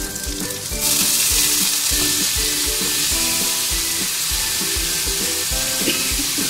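Spices (coriander, cumin and ginger powder) sizzling loudly in a hot pan just after a splash of water goes in, with a steady frying hiss and rhythmic stirring scrapes throughout.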